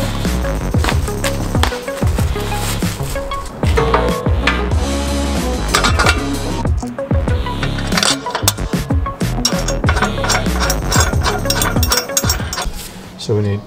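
ARB Summit bar brackets being bolted onto a Mitsubishi Triton bumper, a busy stream of close metallic clanks, clinks and rattling of bolts and tools, loud and continuous, with no talk.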